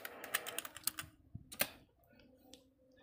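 Keys clatter on a computer keyboard in a fast burst of close clicks, followed by a pause and a few softer taps, as commands are entered at a desktop command prompt for network setup.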